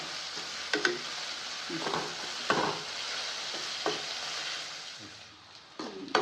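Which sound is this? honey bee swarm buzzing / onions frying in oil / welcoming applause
onions frying in oil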